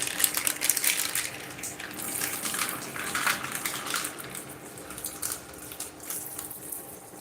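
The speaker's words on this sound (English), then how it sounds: "So we're going to add more water to it." Water poured into a pot of rice and beans, a continuous faint splashing and trickling stream with light clinks, steady and close.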